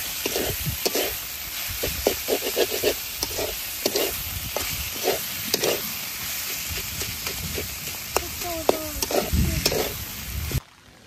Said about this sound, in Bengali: সবকিছু ভালোভাবে মিশিয়ে নই।